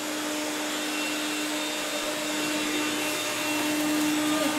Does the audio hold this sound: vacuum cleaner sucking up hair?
yes